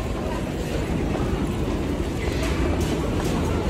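A metro train rides the rails in a steady, loud, continuous rumble with faint rhythmic clatter, heard from inside the car.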